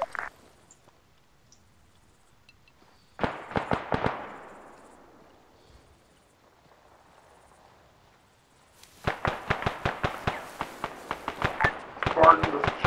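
Sharp bursts of rapid gunfire from a military video game operation crack in quick volleys, a short string first, then a longer sustained run, with quiet low rumble between them.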